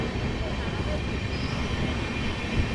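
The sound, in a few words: train departing Uluberia station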